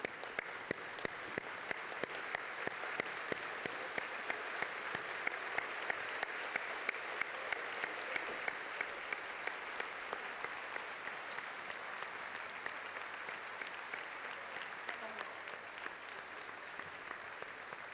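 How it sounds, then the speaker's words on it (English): A large audience at an MBA graduation ceremony gives long, steady applause, dense even clapping that stays fairly distant with no talking over it. "please rise and join me in applauding all of them because they really deserve our celebration"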